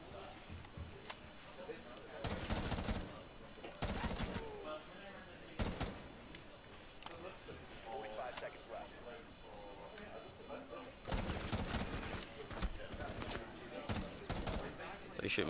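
Gunfire in the video game Rainbow Six: Siege, several bursts of sharp, loud automatic shots with quieter game noise and a voice talking in between.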